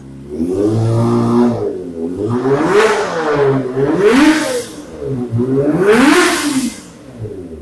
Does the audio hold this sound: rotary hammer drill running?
no